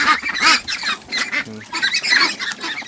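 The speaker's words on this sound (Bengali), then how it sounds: "হাঁস পানি খাওয়ার জন্য পাগল করা হয়ে গেছে" Pekin ducks about a month old quack in a rapid, overlapping chorus, loud and close, with honking calls filling the whole stretch and no talk.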